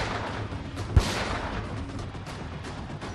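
A single sharp pistol shot cracks out over a noisy, rumbling street scene during communal violence at Kushal Chowk in Jahangirpuri, Delhi, brief and somewhat distant, with the crowd din continuing after.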